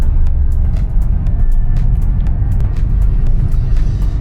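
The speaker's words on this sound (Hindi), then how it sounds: "Enjoy the traffic." Busy city road traffic in Bangalore: a loud, constant low rumble of engines, with frequent short clicks and bursts from passing vehicles close by.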